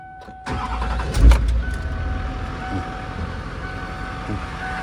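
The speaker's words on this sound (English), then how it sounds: "So it has your standard Duramax sound." A 2006 Hummer H1 Alpha's Duramax diesel engine cranks and catches, then settles into a steady rumbling idle up close, with a whining tone overhead.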